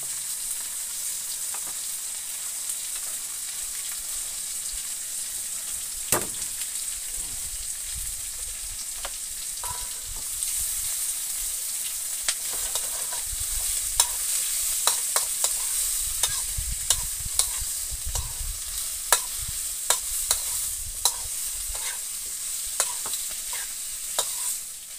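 Tomato, chili and ground onion frying in a pan for sambal, a loud continuous hiss with frequent clinks and scrapes of stirring against the pan throughout, no voices.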